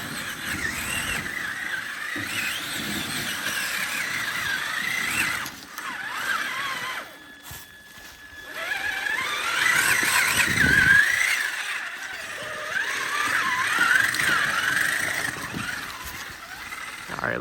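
A Traxxas Summit RC truck crawls over a mossy rock, its electric motor whining and rising and falling in pitch with throttle bursts, a brief lull midway, close and fairly loud with no speech.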